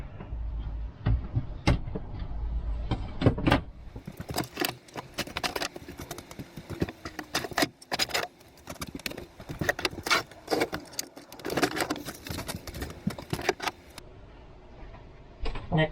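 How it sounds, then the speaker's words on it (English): Drawers are pulled out of a cabinet above a JP Combi diesel heater, with repeated close clattering knocks, sliding scrapes and jangling rattles in irregular bursts. "So I will start by removing the drawers."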